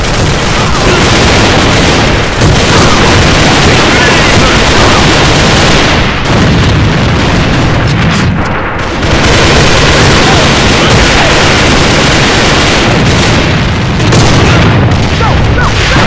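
Loud, dense video-game battle noise with grenade explosions booming among continuous gunfire, saturated and close with barely a pause, shouted voices mixed in.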